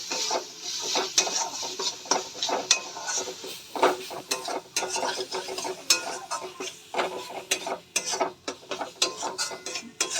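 Turmeric and Kashmiri red chili powder being stirred in a pan: a rapid run of close spoon scrapes and taps against metal, continuous and fairly loud, with no talking.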